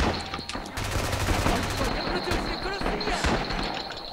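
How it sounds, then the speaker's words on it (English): Distant gunfire crackles in quick repeated bursts, like a far-off volley of rifle shots, steady and rhythmic under a busy background with people talking nearby. "there's something very rhythmic and beautiful about the distant gunshots"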